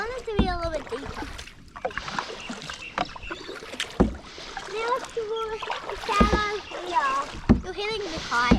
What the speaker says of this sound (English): You're hitting the kayak.